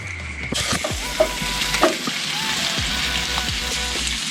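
Red-claw crayfish fry in garlic butter, oil, salt and pepper in a wok, a steady close sizzle broken by several sharp scraping stirs, with no talking.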